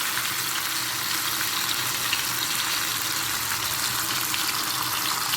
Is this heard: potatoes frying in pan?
yes